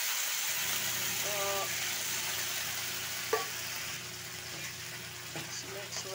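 California Garden faba beans hit a hot pan with a steady sizzling hiss that goes on throughout, with faint stirring clinks and a low background hum.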